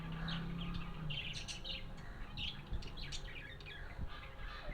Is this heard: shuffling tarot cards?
no